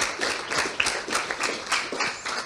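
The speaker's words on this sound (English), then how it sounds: "So let's give them a round of applause" Applause from an audience at a breakfast event, a steady patter of many hands clapping at moderate volume with irregular louder bursts.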